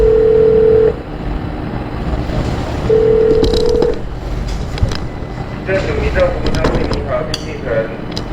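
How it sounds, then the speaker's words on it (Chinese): A telephone number for a police agency switchboard being dialed, with a steady dial tone followed by a run of short DTMF keypad beeps, fairly loud and close, with light background noise. "那我们就照电话上面打"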